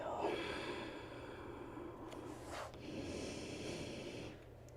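A long, soft breath is let out during a yoga stretch, airy and close, fading quietly with no talking.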